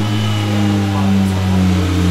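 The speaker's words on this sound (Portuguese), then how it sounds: "Vamos ligar o motor dela aqui então, ó." A BMW S1000 motorcycle engine runs up close, a loud, steady droning hum with a slight rise partway through.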